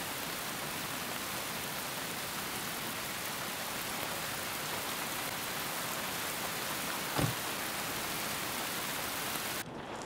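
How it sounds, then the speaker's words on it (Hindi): Heavy rain pours down in a dense, unbroken hiss, with one brief dull thud partway through. "काफी बारिश हो रही है"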